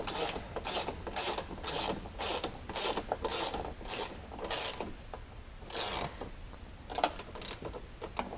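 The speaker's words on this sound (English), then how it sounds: "There should be enough room for you to get a wrench in here and get on this nut" A ratchet wrench tightening a nut on a Kawasaki Teryx side-by-side, with repeated bursts of fast clicking ratcheting in quick strokes, close and fairly loud, with short pauses between the pulls.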